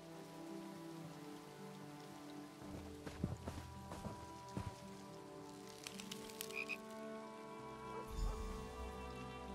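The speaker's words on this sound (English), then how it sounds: "The dockside frog races are about to begin." Frogs croak repeatedly at the dockside frog races in the video game Elder Scrolls Online, steady croaks under a soft wash of rain with scattered clicks and knocks, no voices.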